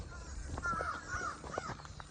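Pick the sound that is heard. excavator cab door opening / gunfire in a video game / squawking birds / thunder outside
squawking birds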